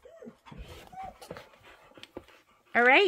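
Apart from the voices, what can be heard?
heavy breathing, panting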